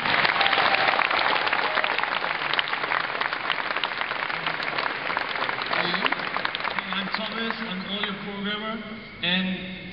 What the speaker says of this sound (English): Applause for Tommy, please